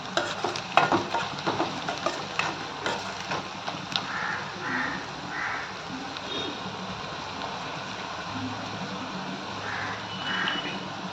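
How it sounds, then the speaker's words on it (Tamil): Onions sautéing in a pan until golden brown for a Sunday beef dish, a continuous frying hiss with scattered stirring scrapes and some faint background sounds throughout. "வெங்காயம் வந்து கோல்டாக நல்லா ப்ரௌனாக வர வரைக்கும் நல்லா வதக்கணும்"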